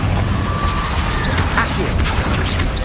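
Confringo fire spell blasts in Hogwarts Legacy gameplay on PS5, loud crashing, rumbling impacts layered with continuous battle clatter and a brief rising whistle, sustained at close range as a voice calls out.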